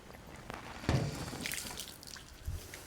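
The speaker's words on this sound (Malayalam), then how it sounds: "ഇത് ഇനി വെള്ളം ഊറ്റി കളയും നമുക്ക്." Water splashes and drains from a pot of cooked tapioca in a few short, soft gushes, with a dull knock, faint and close.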